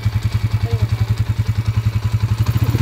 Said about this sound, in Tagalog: Kondisyon na ulit yung makina niya.